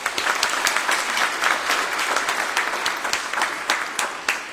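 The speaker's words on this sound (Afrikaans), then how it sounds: "Kom ons gee gou vir hulle lekker aan 'n klap." A church congregation applauds during a Sunday service, dense steady clapping from many hands filling the room at close range throughout.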